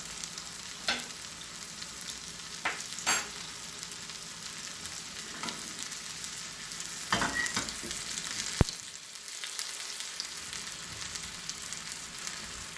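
Green pea and potato tikki patties sizzle and fry in a pan, a soft, steady crackle with a few scraping clicks as they are turned.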